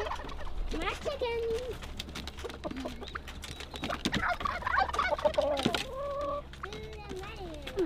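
Farm chickens, including a hen that lays green eggs, cluck and squawk in a busy overlapping run of calls close by, with people talking over and between them.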